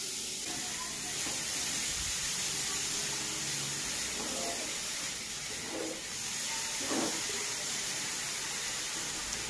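Grated carrot frying in a spoonful of ghee in a wok over a gas flame, a steady loud sizzle and hiss that holds throughout, with faint stirring scrapes underneath.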